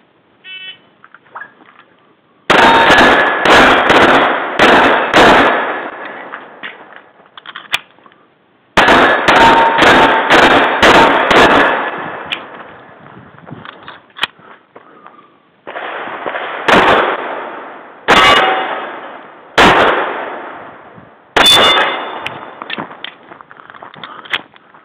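Rapid gunshots ring off steel targets in several loud strings of sharp cracks and metallic pings, with short pauses between the volleys.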